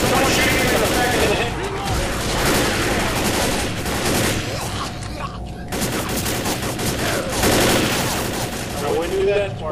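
Sustained automatic assault-rifle bursts in Left 4 Dead, loud and close, rattling in long overlapping volleys with brief lulls, under excited voices calling out.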